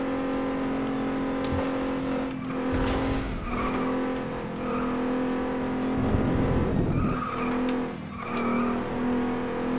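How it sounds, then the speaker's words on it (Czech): A demolition car in the racing game FlatOut 2 drones with a steady engine hum while its tires squeal and skid in bursts, with loud scraping crunches partway through and no speech. "Zbijácký auto."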